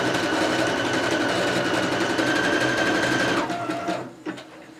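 A sewing machine runs in a fast, even whir while stitching a Mother's Day hem border with drawn-thread work, loud and close, then slows and stops near the end.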